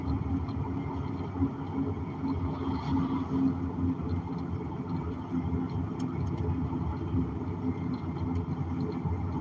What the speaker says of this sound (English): A little raspy exhaust.